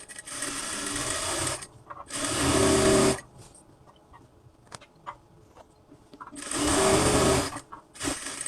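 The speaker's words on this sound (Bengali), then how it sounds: "এভাবে যখন সাইডটা সেলাই দেওয়া হবে" A sewing machine runs the side seam of a kameez in long bursts of loud, steady whirring, alternating with quieter gaps full of soft handling and fabric noises.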